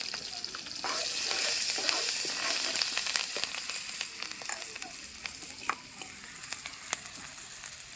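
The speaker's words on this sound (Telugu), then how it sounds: "ఆనియన్స్ మిర్చి అందులోకి కరివేపాకు కూడా వేసుకోవాలి" Onions, green chillies and curry leaves fry in a pan with mustard seeds and cumin for a fish curry. A loud, close crackling sizzle runs throughout, broken by sharp stirring clicks and pops.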